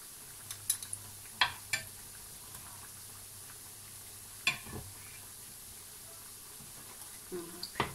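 Tunisian makroud pastries fry in hot oil with a faint steady sizzle, broken by a few sharp knocks and clinks of a utensil against the pan.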